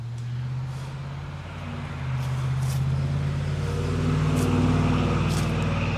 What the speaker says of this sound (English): Oh, classic car going that way.